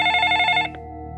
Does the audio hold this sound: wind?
no